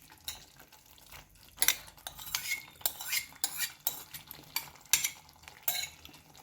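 Fenugreek greens being stirred into a sautéed garlic mixture in a pan produce repeated scraping and clinking strokes of a spoon at an irregular rhythm, over a soft frying sizzle.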